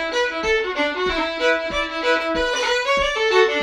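Fiddle running a traditional Irish tune up to full speed with rolls ornamenting the melody; continuous close bowing with quick note changes and a driving pulse, no voices.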